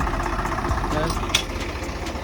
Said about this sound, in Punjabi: 855 ਮੇਰਾ ਫੇਵਰਟ ਟਰੈਕਟਰ ਆ